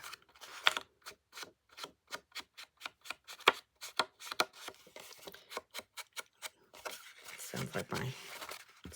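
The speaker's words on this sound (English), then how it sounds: "Sounds like my sponge is getting stuck on the edges or corners of the paper" A sponge rubbed round and round the edges and corners of paper while inking, giving a long run of quick, close scuffing strokes that come in a steady rhythm, with a denser, rougher patch near the end.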